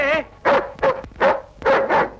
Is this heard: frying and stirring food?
no